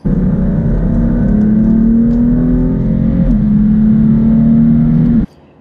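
A 2018 BMW M4 accelerating hard, its engine note climbing loud and strong through the revs for about five seconds before cutting off abruptly.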